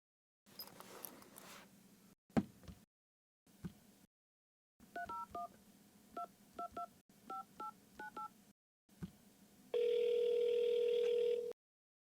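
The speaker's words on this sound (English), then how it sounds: "Let's see if we can get her on the phone to clarify." Telephone being dialed on a landline: a series of short touch-tone beeps in separated bursts, followed by a loud steady ringback tone near the end.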